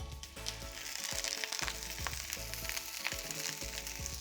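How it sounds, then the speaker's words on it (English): Vegetables sizzle steadily in hot olive oil, a dense crackling hiss broken by frequent clacks and scrapes from a utensil in the pan. "I've got some olive oil heated up. Hear that sizzle?"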